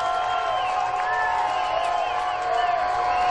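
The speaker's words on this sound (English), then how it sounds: "Crowd alive and well here in Spartanburg." A football stadium crowd in Spartanburg roars during a Kennesaw State versus Wofford game, a dense, sustained wash of cheering and shouting with whistles and calls rising over it.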